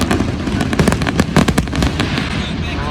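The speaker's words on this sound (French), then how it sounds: "il y a le feu d'artifice" Fireworks burst over Monaco during a summer evening of supercar spotting, a dense barrage of sharp pops and crackles in rapid overlapping succession, loud and steady throughout with a dull rumble beneath.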